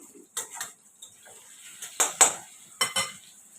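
Spice paste is added spoonful by spoonful into hot oil in a pan, giving a run of sharp metallic clinks and scrapes from a spoon against the pan over a faint sizzle.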